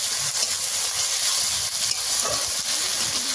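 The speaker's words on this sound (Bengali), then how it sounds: "এবার কিছুক্ষণ একটুখানি ভেজে নিয়েছি" Ground cumin and coriander paste sizzles steadily in hot oil for an egg curry, a constant close hiss and crackle with no talk.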